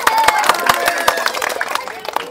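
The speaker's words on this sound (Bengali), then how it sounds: "সুন্দর হাততালি" A village crowd applauds during a rural game where bricks are placed on men's legs: a flurry of sharp, uneven handclaps rattles on steadily while people talk and call out over it.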